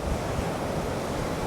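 Big ocean surf breaking on a beach where someone is bass fishing, a constant loud roar of crashing waves with wind buffeting the microphone throughout, no voices.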